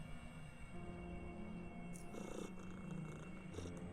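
A cat in UnderRail 2 purring softly, a low steady rumble under quiet game ambience with a few brighter chirps and tones mixed in, faint and without speech.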